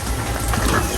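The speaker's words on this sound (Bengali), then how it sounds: "বৃষ্টিটা কমছে" Rain easing off, a dense, even hiss of falling drops on surfaces, fairly loud and steady over a single second with no voices.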